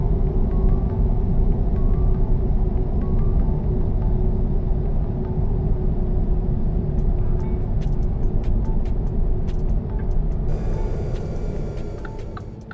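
A truck drives in the video game American Truck Simulator, its engine a steady, loud, low rumble that holds throughout before easing slightly near the end.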